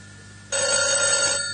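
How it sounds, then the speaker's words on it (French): A telephone bell rings loudly and continuously, cutting in abruptly after a brief quiet moment and sounding close and alone. "Oh, le téléphone?"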